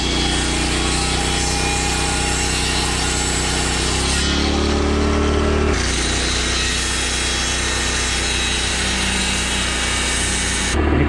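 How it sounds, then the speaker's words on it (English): An oscillating multi-tool blade cuts through trim during a tiny house flooring installation, giving a loud, steady buzzing rasp that runs for the whole stretch with a short lighter pause partway through. No one speaks. "This is a oscillating knife or an oscillating blade."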